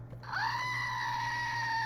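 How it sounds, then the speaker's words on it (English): Screaming goat toy lets out one long, loud, goat-like scream that rises quickly and then holds steady, heard up close with nothing else over it. "That's Gerald, my screaming goat."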